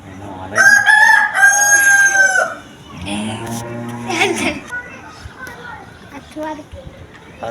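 Rooster crowing near a yard kept with rabbits and hens, a loud harmonic call rising in the first seconds, followed by voices and a sung or chanted line.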